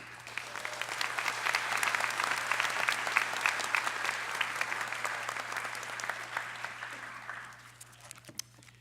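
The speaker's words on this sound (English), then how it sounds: "Let's have a warm applause for Legislator Owen Stee." Warm applause from a commencement ceremony audience for a county legislator, a steady wash of many hands clapping in a large hall that swells, holds for several seconds and tapers off near the end, with no talk over it.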